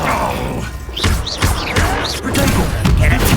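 A Confringo blasting spell in a Harry Potter video game, a series of loud, close thumping blasts and crashes landing one after another over roughly three seconds among other combat noises.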